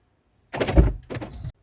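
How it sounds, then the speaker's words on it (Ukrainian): A car door is unlocked keylessly by pulling its handle with the smart key in a pocket: two quick, close mechanical clunks from the lock and latch, then quiet. "І я відмикаю двері з допомогою ручки."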